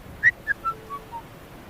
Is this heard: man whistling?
yes